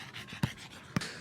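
A dog pants close by, with two sharp breathy bursts standing out against a low, steady background of breathing.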